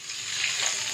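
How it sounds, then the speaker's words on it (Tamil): Mustard seeds crackle and sizzle in hot oil, the start of a beetroot fry: a steady, close, dense hiss with fine popping that holds for the full second. "இப்போ பீட்ரூட் பொரியலுக்கு வந்து நம்ம கடுகு போட்டிருக்கோம்"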